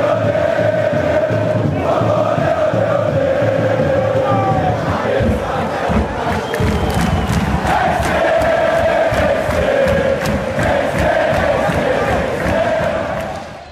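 Football stadium crowd at a Botafogo vs Fluminense classic, a dense, loud continuous roar of chanting and cheering fans that holds steady throughout, swelling slightly in the second half before easing at the very end.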